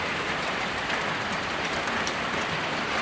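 Rain falls on a rainy morning in Norzagaray, Bulacan, as a steady, even hiss of drops that carries on without pause and without voices.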